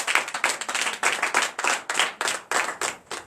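A church congregation at a Sunday service in Comè, Benin, claps in acclamation. The sound is a loud, close, rhythmic burst of many hands in quick, even beats.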